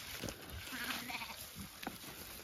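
Sheep on a farm bleating as they are brought corn, a few short calls at close to moderate distance over steady outdoor background noise.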